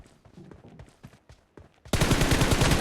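Rapid back-to-back gunfire from the PUBG video game bursts in loud and dense after quieter footsteps and shuffling movement.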